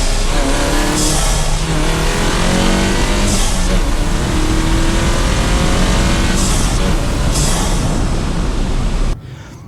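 Volkswagen GTI with an IS38 turbo running on E85 pulls hard under acceleration, a loud, steady engine and turbo roar holding for about nine seconds before cutting off abruptly.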